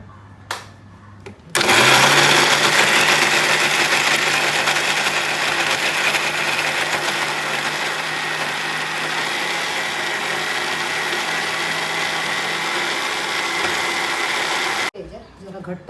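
An electric mixer grinder grinding idli and dosa batter with a little water switches on with a sudden loud, steady whirring roar that runs for about thirteen seconds before cutting off abruptly.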